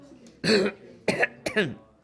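A man clears his throat with three rough, gravelly coughs spaced across a couple of seconds, each one short and close up.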